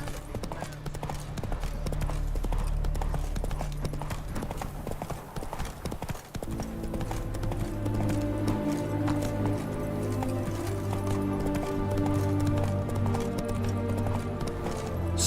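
Roach, a horse in The Witcher 3, gallops with rapid, rhythmic clip-clop hoofbeats over layered background game music, sometimes slowing briefly before picking up the pace again.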